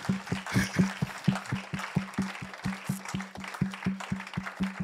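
A church congregation claps in steady, rhythmic unison, about four beats per second, loud and sustained under a low hum, with crowd noise around it.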